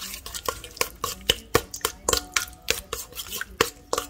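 Croquette ingredients are stirred in a bowl, giving a steady run of soft, regular scraping and clinking strokes close by, with no talk.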